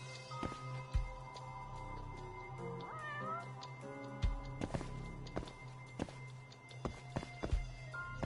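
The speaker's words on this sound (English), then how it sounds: "Here's the kitty. There's always a kitty. I heard it." A cat meows in the video game Judgement, with several short meows scattered over quiet background music and game ambience, and occasional footsteps and thumps.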